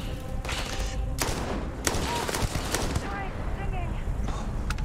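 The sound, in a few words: gunfire in the Starfield video game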